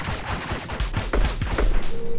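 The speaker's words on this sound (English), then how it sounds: "I'm just gonna shoot." Gunshots from the video game Owlboy fire as a rapid burst of repeated shots, loud and close, with no talking over them.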